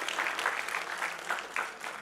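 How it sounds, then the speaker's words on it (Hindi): A crowd at a charity fundraising concert for the Nepal earthquake claps steadily, a moderately loud, sustained patter of many hands with no voices over it. "Ek par zordar taaliyan ho jaye unke liye,"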